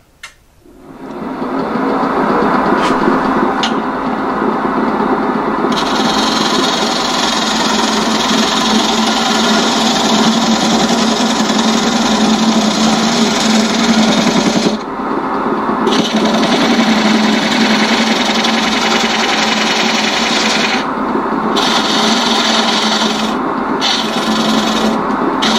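Wood lathe turning a bowl while a dovetail is cut: a long steady rasping scrape of tool on spinning wood over the motor's hum, loud and continuous with a few brief breaks in the cut.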